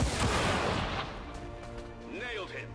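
A weapon fires and blows up an enemy in XCOM 2, a loud blast with a rumbling decay followed by electronic sound effects, with someone talking.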